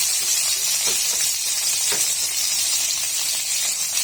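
Tomatoes and ginger sautéing in a pan for fish sinigang, a steady, close sizzle with soft stirring scrapes and faint hiss throughout, no talking.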